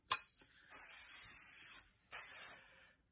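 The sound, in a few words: hairspray being sprayed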